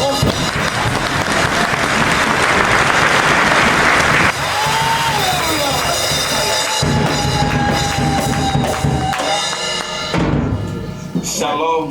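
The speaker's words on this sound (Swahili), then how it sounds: "shangilia kwa makofi." A church audience claps loudly to welcome a pastor to the stage, a dense burst of applause in the first few seconds that gives way to sustained music tones while the clapping fades underneath.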